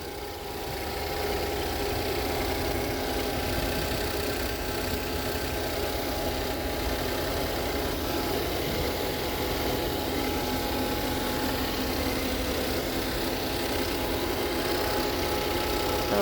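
A Ford Fusion engine idles steadily up close, a constant low rumble and hum with no change in pitch.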